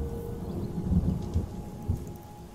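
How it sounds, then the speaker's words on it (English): Thunder rumbles low and steady in the video game Terra Nil, a soft rolling swell with faint rain noise and no talking. "Do you hear that thunder?"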